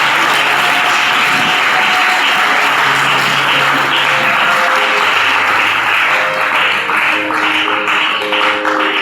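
A church congregation applauds to acclaim the Lord at a closing worship session, with loud, sustained clapping that carries through the whole stretch without any speech over it.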